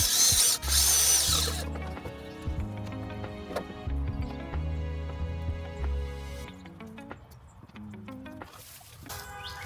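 A socket wrench with a deep socket and an extension works on the thermostat bolts of a Jeep. Close, mechanical whirring and ratcheting comes in uneven bursts, fading into quieter clicks toward the end, with no speech.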